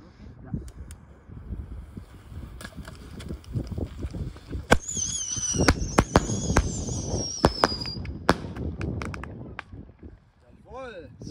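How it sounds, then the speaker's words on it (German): A Knallfrosch jumping-jack firecracker goes off outdoors on New Year's Eve, a rapid irregular string of loud cracks and pops with a squealing whistle, close by, while people talk. "Hier ist noch ein Knallfrosch."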